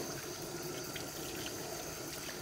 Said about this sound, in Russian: чтобы вода шла вот такой же струей, как вот здесь из-под крана